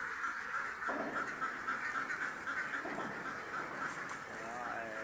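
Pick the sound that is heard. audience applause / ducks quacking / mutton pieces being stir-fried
ducks quacking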